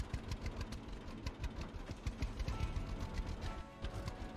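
A tractor engine idles in the Farmer's Dynasty farming game, a steady low mechanical rumble with a quick knocking pulse, moderately quiet and continuous throughout with no talk.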